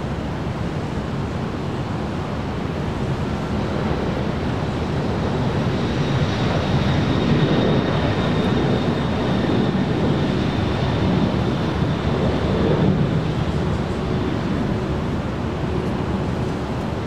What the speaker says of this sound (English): the Super A380 now just a minute out from arrival here on the north side